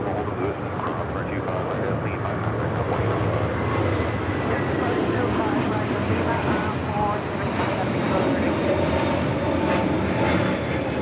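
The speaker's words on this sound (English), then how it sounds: "This is Delta Airlines 482 taking off to Orlando on the A321neo" Delta Airlines A321neo jet taking off from LAX bound for Orlando, a steady broad roar of engines at moderate distance, sustained throughout with a windy, rushing texture.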